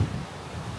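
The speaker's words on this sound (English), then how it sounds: "Oh, it's so windy." Wind buffets a microphone outdoors in a steady low rumble that carries on for the whole short stretch, with no voices heard.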